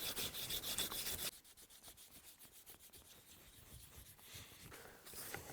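Fallkniven knife blade stroked on a leather strop loaded with black polishing compound, giving soft repeated rubbing and scraping strokes, brighter and louder at first, then quieter steady strokes, close up with no talk.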